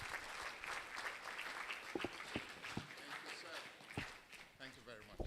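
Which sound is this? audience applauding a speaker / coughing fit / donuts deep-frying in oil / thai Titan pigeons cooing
audience applauding a speaker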